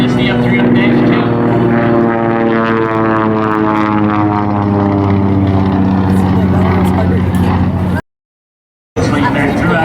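A Grumman F3F-2, a stubby barrel-shaped biplane fighter, drones past at an airshow: a loud, close propeller roar with a steady engine hum that holds for about eight seconds, drops out briefly, then returns.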